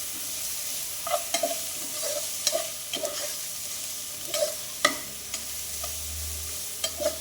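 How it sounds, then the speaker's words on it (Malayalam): A spoon stirs beef curry masala in a hot pan, with repeated scraping strokes and small knocks over a constant sizzle, close and fairly loud, with no voices. "ഇതിലേക്ക് നല്ലതുപോലെ ഇളക്കി കൊടുക്കണം."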